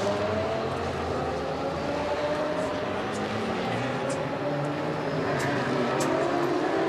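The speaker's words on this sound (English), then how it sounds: "There is the treble one Ferrari, and as that powers out of La Source" Ferrari GT race car accelerating out of La Source hairpin at the Spa 24 Hours endurance race, engine note rising and sweeping past at a distance beneath crowd and circuit ambience, steady and fairly faint.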